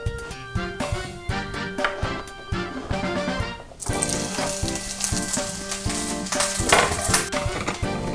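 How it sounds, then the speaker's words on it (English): Onions frying in a hot pan with a little oil, a steady sizzle broken by stirring clatter and a louder burst of crackling partway through, close and continuous with no talk. "Our pan's heated, so let's get these onions underway."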